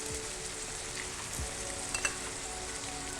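Turmeric, salt and spices dry roasting in a kadai, a steady close frying hiss with a few quick scrapes of a spoon stirring, no speech.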